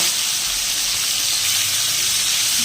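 Small prawns, about 400 grams, frying in hot oil give off a steady, even sizzling hiss that continues without a break, with no talking.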